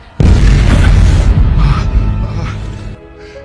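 A loud bomb blast in a film scene, a single heavy boom that hits at once and rolls on as a long rumbling roar before it fades near the end.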